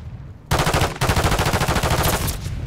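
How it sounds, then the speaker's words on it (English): Automatic gunfire from the Call of Duty MW3 video game in Search and Destroy mode: a loud, dense burst of rapid shots begins abruptly after a short quiet moment and continues steadily to the end. "Who are you shooting at? Are you shooting at the ground?"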